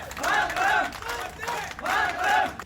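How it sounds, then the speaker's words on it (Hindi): Crowd of airport staff at Jammu airport chanting patriotic slogans to welcome ITBP soldiers, loud rhythmic shouted phrases repeating in bursts close by. "आईटीबीपी जवानों की मौजूदगी में एयरपोर्ट परिसर देशभक्ति के नारों से गूंज उठा"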